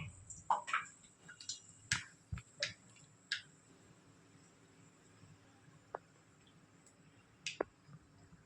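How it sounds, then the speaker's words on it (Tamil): Scattered sharp pops and crackles, irregular and fairly quiet, of mustard seeds spluttering in hot oil with green chillies, thinning out toward the end. "கடுகு வெடிக்கட்டும்"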